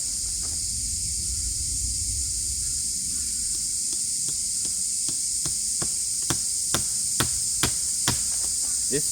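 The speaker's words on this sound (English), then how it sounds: "Nail it onto the tree here." A steady high hiss of insects or spray, joined by a run of sharp hammer strikes driving a nail into a tree, growing louder and more regular toward the end.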